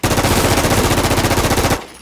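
Rapid automatic gunfire from a video game, fired while jumping, in a steady loud burst of closely spaced shots lasting nearly two seconds before cutting off abruptly.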